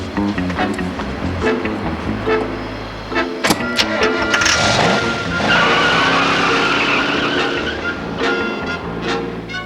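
A Maserati speeds by during a police chase, with sharp tire squeals and skidding over a loud engine roar that swells and sweeps past in the middle, then fades into continuing engine noise.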